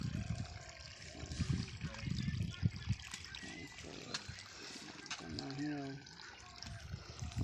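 Water flows from a pipe into a dry farm field, a soft trickling and splashing heard up close beneath ongoing conversation, with some louder gushes and thumps partway through.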